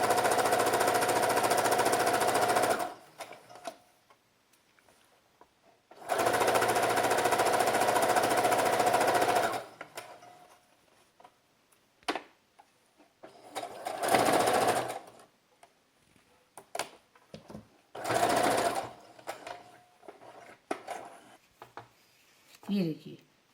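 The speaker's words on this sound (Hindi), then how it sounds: "इसे बराबर सिलाई में लेते जाएंगे और दबाते जाएंगे।" A close, loud sewing machine stitches elastic into a baby knicker in two long steady runs, followed by shorter bursts of stitching separated by quiet gaps and small handling clicks.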